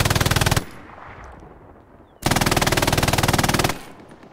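An MG42 machine gun firing in the Hell Let Loose video game: two loud, very rapid sustained bursts, the first short and cut off, then a quiet gap before a longer burst of evenly spaced rattling shots.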